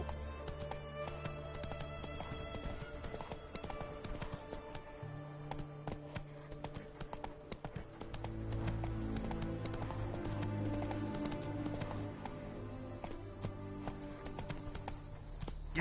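Hooves of a horse gallop steadily in The Witcher 3, a fast, continuous clip-clop rhythm close up under game music and ambience, growing louder and heavier partway through.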